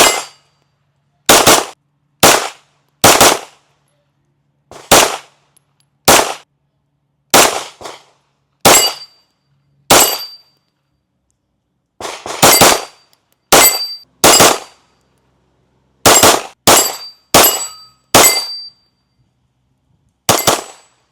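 Loud, sharp pistol shots from a Fusion XP Pro Comp and an Alpha Foxtrot Romulus at a shooting range, fired in quick pairs and short strings with brief pauses, each crack dry and close with silence between.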